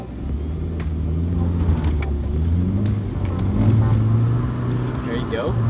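A stock Nissan S14 240SX with a welded diff doing donuts, its engine droning and revving in steady rising and falling pulls close by, with people talking over it.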